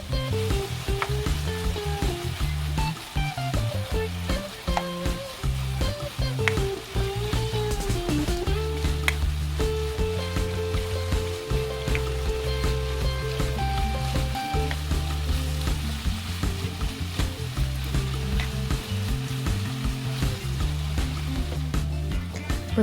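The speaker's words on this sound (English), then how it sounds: "Add fried black bean sauce into pan and stir them about 1 minute." Fried black bean sauce sizzles in a hot pan while being stirred for jjajang myeon, a steady loud frying hiss with scraping stir sounds running continuously, no voices.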